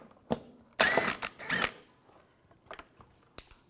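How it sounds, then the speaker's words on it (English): A ratchet with a T30 socket removing the front bumper screws on a 2004-2010 BMW X3, quick close bursts of clicking ratchet turns with short pauses between. "So, in the front, there's two screws. Take these off. Use a T30 socket."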